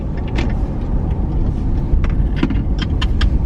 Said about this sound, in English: The stupid Starbucks cups in the background rolling around.